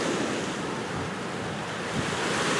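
The floodwater of the Arkansas River at a historic high rushes past in a steady, dense roar, with gusts of wind buffeting the microphone and no voices.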